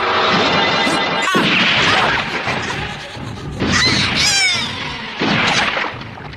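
Gunfire in an anime shootout scene: loud, dense bursts and cracks fill the clip in a few surging waves, with harsh high-pitched noise over a heavy low rumble.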